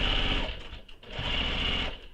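A sewing machine stitches down the side of a small crossbody bag, running in a fast steady whir with a brief pause midway before resuming, close and alone.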